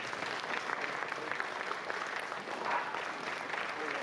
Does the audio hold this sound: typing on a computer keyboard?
no